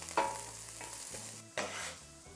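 Onions sizzle steadily in a hot pan, softened and turning light brown, with two sharper bursts as a utensil stirs and scrapes them, close and alone with no voices.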